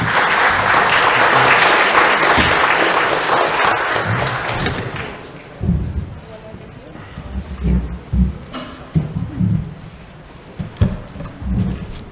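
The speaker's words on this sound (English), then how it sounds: "please join me in welcoming them with a round of applause" Audience welcomes panel speakers at a Southeast Asian climate action panel with a loud round of applause that fades after about five seconds, followed by footsteps, thumps and low murmuring voices as people settle.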